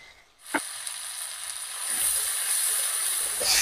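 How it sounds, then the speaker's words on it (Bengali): Chopped onion and elephant foot yam sautéing in hot oil with a pinch of salt, a bright continuous sizzle that starts with a sudden burst and a clack of a utensil, then swells slightly louder. "পেঁয়াজটাকে আর ওলটাকে একসাথে আমি ভালো করে কষিয়ে দেব"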